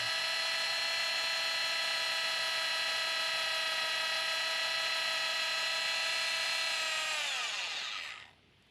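An electric drill whines steadily at high pitch for several seconds, drilling through metal on a Nissan Primera P11, close and loud, then winds down and stops.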